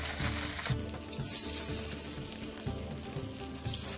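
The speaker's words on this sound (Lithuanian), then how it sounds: "Apkepiam iki gražiai rudos spalvos" Pieces of meat coated in cornstarch batter fry in hot oil for a Chinese-style dinner, browning to golden; a dense, steady sizzle and bubbling crackle runs loud and continuous throughout.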